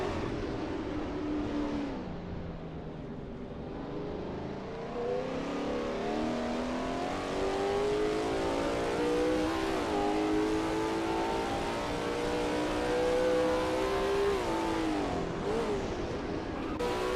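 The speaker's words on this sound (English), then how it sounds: "the sounds of cheering fans should just barely be audible over the roar of the engine" Lola T70 MkII Spyder engine at Imola in a racing video game, roaring continuously with rising and falling revs through gear changes, loud and close throughout.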